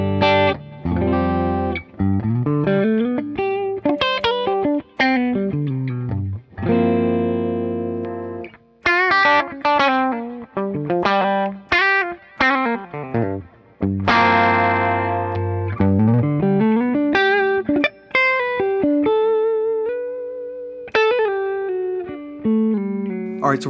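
Clean electric guitar played through a Polaris 112 combo amp with a TC Electronic Vintage Pre-Drive VPD1, neck-and-bridge middle pickup position, ringing chords and arpeggiated notes sustaining continuously for over twenty seconds, close and full, with light reverb.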